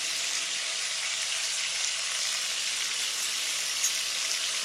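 Chicken pieces fry with ginger garlic paste in a karahi, giving a steady, close, even sizzle that holds without a break and has no voices over it.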